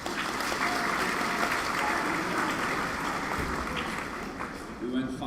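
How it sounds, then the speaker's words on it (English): A crowd applauds a junior football team at a school extracurricular awards event, a dense, sustained clapping that holds steady for several seconds before tapering off near the end. "Round of applause for that."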